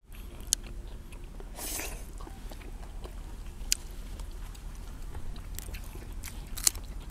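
Raw fresh beef is eaten close by with soft wet chewing and a few sharp clicking bites spread through a quiet, steady background.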